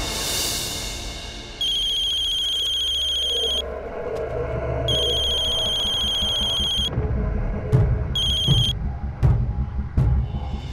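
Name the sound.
telephone ringing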